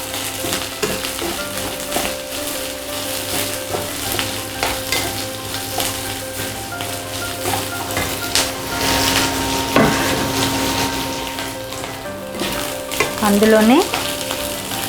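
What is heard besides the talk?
capsicum and green chillies frying and stirred in pan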